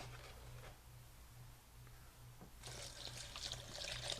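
A quiet hum sits under soft trickling, then spring water pours more strongly near the end, splashing with a bright, hissing texture, while making homemade wine.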